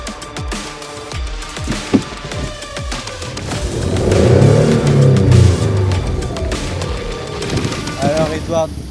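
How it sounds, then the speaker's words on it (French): A car in a film scene sweeps in on a drift, tires and engine swelling into a loud roar before it stops close by, with speech overlapping and scattered sharp impacts. "une voiture vient en faisant un drift et s'arrête très proche d'eux"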